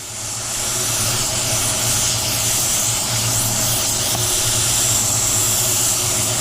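A spray gun lays on a wet second coat of automotive clear, giving a steady close hiss of atomized spray with a faint low hum behind it and no talk.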